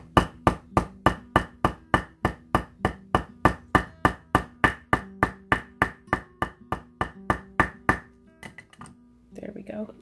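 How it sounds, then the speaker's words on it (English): Steady series of about twenty sharp hammer blows on a metal paddle earring set at the edge of a work surface, evenly spaced and ringing, then a brief pause and some softer handling noises at the end. "I'm going to start hitting it with my hammer."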